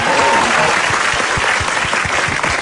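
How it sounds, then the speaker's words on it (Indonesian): A studio audience at an Indonesian comedy show bursts into a broad, continuous wash of applause for Cinta Laura, loud and even throughout with no voices standing out. "tepuk tangan buat Cinta Laura"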